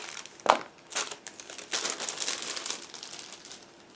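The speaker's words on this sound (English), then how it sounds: "This one is also packed into the separate plastic bag, so just give me a second to open it" A plastic bag holding a sprue from an IBG Models 1/72 PZL 42 kit is opened up close, with one sharp crackle followed by a run of quieter crinkles and rustles.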